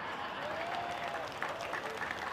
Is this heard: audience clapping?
yes